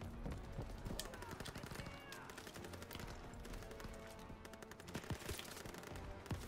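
Machine gun fire rattles in rapid, dense bursts through a Call of Duty WWII D-Day battle, with many crackling shots layered together at a fairly steady, moderately distant level.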